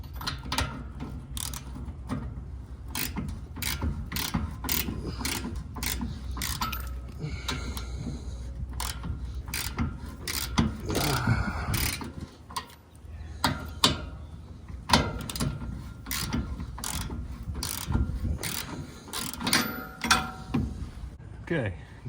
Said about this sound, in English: Get the socket off before the nut comes off.